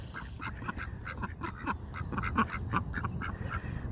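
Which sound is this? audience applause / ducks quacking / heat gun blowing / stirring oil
ducks quacking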